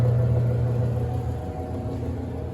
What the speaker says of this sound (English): And here is the blower